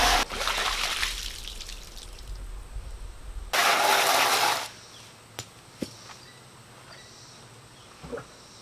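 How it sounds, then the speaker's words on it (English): Water is poured out onto stones in two splashing bursts, the first longer and the second a heavy gush, followed by a few small drips and trickles close by. "I'm gonna dump this water out in the stones here."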